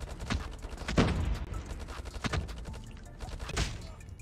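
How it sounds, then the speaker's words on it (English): Rapid bursts of gunfire in the mobile shooter COD Mobile from a medium- to long-range gun, several clustered volleys with loud, sharp onsets over a busy in-game background. "Let me just shoot this guy here."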